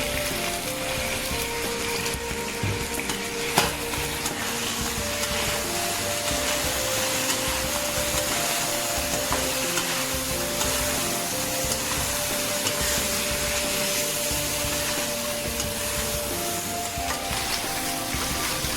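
Chicken being stir-fried with dark and light soy sauce and salt in a wok, a steady loud sizzle and scraping that runs throughout with no talk.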